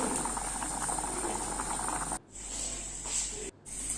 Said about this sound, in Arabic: نحطوا كأس من الماء ونحطوا فوقه هذاك البرقوق يغلي لمده حوالي 5 دقائق